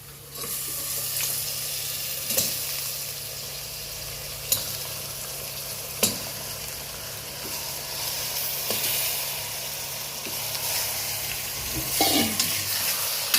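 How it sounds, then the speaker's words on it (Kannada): Mutton frying in oil with onion in a pan, giving a steady soft sizzle and hiss with occasional clicks of a stirring spoon, alone with no voices. "ನೋಡಿ ಇದು ಮಟನ್ ಹಾಕ್ತಿದ್ದೀನಿ"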